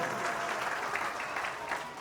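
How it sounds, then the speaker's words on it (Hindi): Applause from an audience at a community gathering of a Rajasthani Regar society association in Surat, a steady, dense wash of clapping that carries on throughout with no speech over it. "एक बार जोरदार तालियां हो जाए।"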